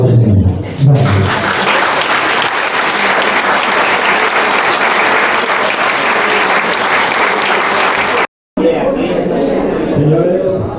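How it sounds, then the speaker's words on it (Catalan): An audience gives a loud, sustained round of applause for a visiting choir at an end-of-year concert, the clapping dense and steady for about eight seconds, cutting off briefly and then resuming. "Per favor, rebem-los un fort aplaudiment."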